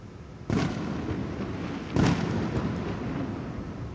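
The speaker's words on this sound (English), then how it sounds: "We just heard some fireworks right there." Two fireworks bursts go off outdoors, each a sharp boom trailing into a rumbling decay, the second slightly louder, heard at a distance over a quiet indoor background.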